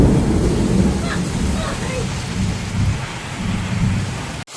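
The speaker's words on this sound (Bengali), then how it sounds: "বাইরে প্রচণ্ড বৃষ্টি হচ্ছে" Heavy rain pours down outside with rumbling thunder beneath it, a loud, continuous wash of noise heard from indoors in a home kitchen.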